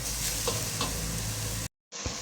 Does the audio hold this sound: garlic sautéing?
yes